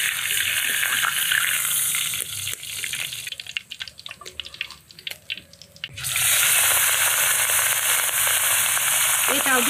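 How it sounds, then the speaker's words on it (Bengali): Katla fish pieces fry in oil, a loud continuous sizzle that drops away midway into quieter clinks and handling noises before the strong frying hiss returns. "নামিয়ে বাকি 2 পিস ভাজবো।"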